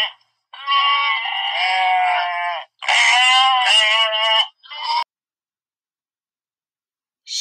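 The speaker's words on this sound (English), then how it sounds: "This is a sheep." A sheep bleats in three wavering calls, loud and close, the first two long and the last short, with silence afterward.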